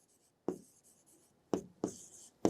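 Four short scratchy strokes of hand-writing a chemical name, separated by pauses and fairly close, with no talking.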